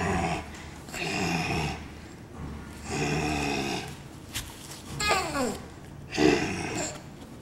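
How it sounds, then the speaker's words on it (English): A dog makes low growling, grumbling vocal sounds in several bursts, close to the microphone, with a person murmuring briefly in between. "You gonna talk? Or are you just gonna growl?"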